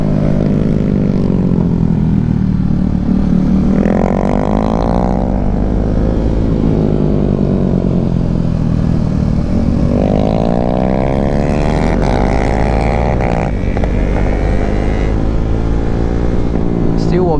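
A KTM 390 Duke single-cylinder engine drones loudly on a race track during a track day, its pitch sweeping up and down through gear changes, with wind roar throughout and no distinct voices.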